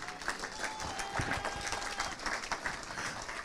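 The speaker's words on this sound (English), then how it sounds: "give Jesus a clap of hands, please" Church congregation clapping their hands together, a brisk, dense patter of many claps sustained at moderate loudness for a few seconds, no voices over it.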